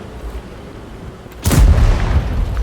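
In World of Tanks, the Sturer Emil tank destroyer fires once, a single heavy boom that hits after a quiet stretch and rolls on as a loud, lingering rumble.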